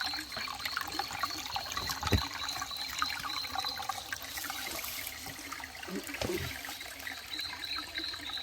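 Water trickling over rocks along a hiking trail up to Edith Falls in Chaguaramas, a steady soft outdoor wash with a couple of brief splashy gurgles, no talk.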